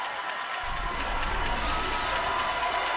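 A professional wrestling arena crowd roars in anticipation, a dense, steady wall of cheering that swells slightly and stays loud throughout.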